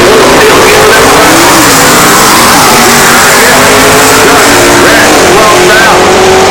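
Small block Barracuda stock eliminator drag car launching at an NHRA event, a loud sustained engine roar with rising revs close by, dense and steady throughout under crowd and track noise.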